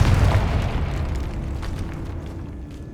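A Confringo blasting spell bursts in the Hogwarts Legacy game, a heavy, loud boom at the start that rolls into a long, slowly fading rumble with crackling debris.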